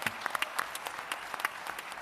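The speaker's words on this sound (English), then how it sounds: "I think she deserves a round of applause for sure." Sparse audience applause at a talk event on healthy diets in Africa, quiet and somewhat distant, with scattered individual claps popping out over a soft wash.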